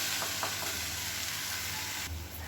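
Onions and spices sauté in oil in a pan, a dense continuous sizzle heard close up, with faint stirring scrapes and a slight change in tone near the end.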